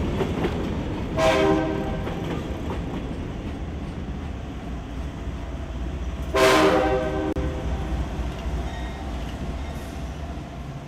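A train rumbles steadily past at a distance, its horn sounding twice with long, loud blasts several seconds apart.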